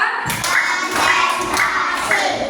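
Several rhythmic hand claps by a group, likely children, in a classroom, sounding in a steady counted pattern of roughly four beats at close range.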